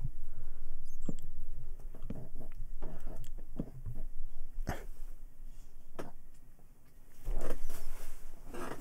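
A dog wanders into a room and licks itself, giving a series of brief, wet slurping and snuffling noises scattered close by over a steady hum, with a couple of louder bumps; nobody talks.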